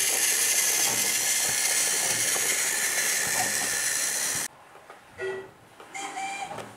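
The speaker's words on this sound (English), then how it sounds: "And Emily steamed away with her freight train." A steam engine hisses loudly and steadily as it pulls a freight train, a broad continuous rush that cuts off abruptly, leaving a quieter background with a few faint clanks and tones.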